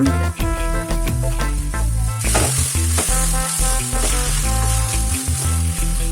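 Tomatoes go into a pan with sautéed ginger and garlic for a mushroom masala gravy, giving a loud, continuous sizzle that swells partway through, with background music playing alongside.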